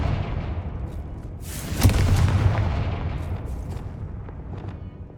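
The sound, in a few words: Confringo blasting spell explosion in the video game Hogwarts Legacy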